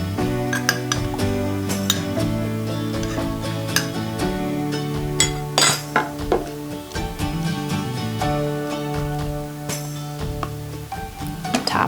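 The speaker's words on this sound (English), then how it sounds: "I'll take that large spoon, press that down in there" A large spoon clinks and scrapes against a glass canning jar while pressing sauerkraut down, with repeated irregular metallic taps and rubs over a steady background hum.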